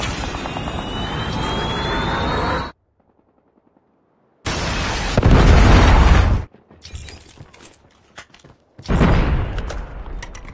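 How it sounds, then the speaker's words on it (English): Missile strike explosion in Call of Duty multiplayer: loud blasts with gunfire and a whining aircraft-like sweep, broken by abrupt near-silences, then further heavy booming bursts, chaotic and close with no talking. "Missile inbound."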